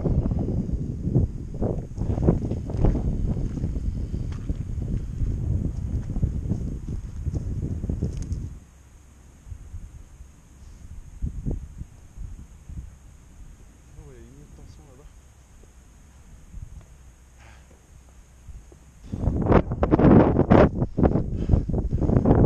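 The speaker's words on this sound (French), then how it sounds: "Et là le vent se lève, ça met des rafales." Gusting wind on a mountain summit at 1880 m, buffeting the microphone in loud, roaring bursts that drop away to a quiet lull before surging back strongly near the end, with someone talking over parts of it.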